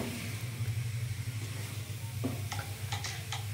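Grated carrots stirred with ghee in a pan for gajar ka halwa, a soft continuous sizzle with scraping, followed by a few light clicking taps of a spoon against the pan.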